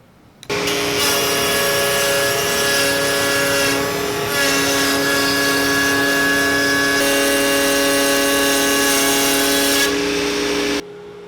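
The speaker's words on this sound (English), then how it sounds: "I'm going to go ahead and cut some dados in here to put my shelves into" Router fitted with an undersized Whiteside bit cutting dados into plywood for shelves, a loud sustained high whine with a steady grinding cut that starts suddenly and stops cleanly.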